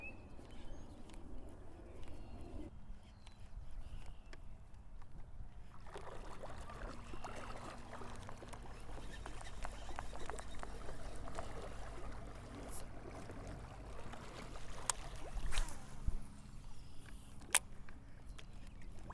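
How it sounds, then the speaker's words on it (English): Fishing boat pushing slowly through dense weeds, with rustling, swishing and gentle water sloshing under a low hum, occasional knocks and splashes, steady and close with no talk. "they can hear this boat coming through this stuff from 100 miles away, moving and shaking every weed into place"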